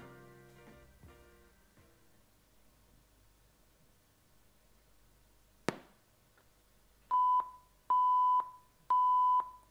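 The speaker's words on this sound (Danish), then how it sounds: "Der var de 3 bip." A SOAIY SH39 RGB gaming soundbar gives three evenly spaced electronic beeps during a firmware upgrade, each loud and clear and about half a second long, after a sharp click and a quiet lead-in.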